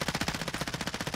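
In Call of Duty Warzone, a rapid rattling burst of automatic gunfire comes as a tight string of evenly spaced shots, loud and continuous for about a second.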